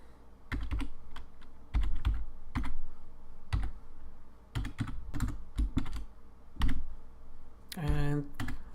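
Python code being entered on a computer keyboard: close, crisp keystrokes in uneven clusters with short pauses, ending in a brief different tone near the end.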